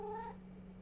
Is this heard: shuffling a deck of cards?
no